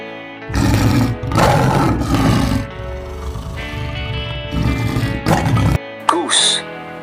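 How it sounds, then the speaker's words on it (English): A lion roars in several loud, rough bursts of about a second each, close and dominant, with a short higher cry at the end. "Lion."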